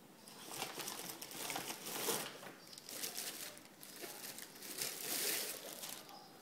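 Plastic parcel packaging around an Xbox One controller crinkles and rustles in repeated bursts as it is handled and opened. The sound is close and fairly quiet.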